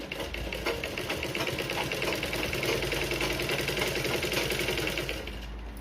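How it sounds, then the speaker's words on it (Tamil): A sewing machine runs steadily as it stitches two layers of blouse fabric together. Its rapid, even mechanical whirring and clatter continues close by for several seconds without a break. "2 துணியும் ஒன்று போல் வச்சுக்கிட்டு தையல் போடுங்க 4 இன்ச்சுக்கு"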